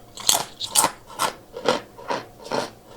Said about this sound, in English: If they're slightly thicker like these ruffle-style chips, they're going to have more crunch to them, kind of like an old-fashioned kettle-style chip.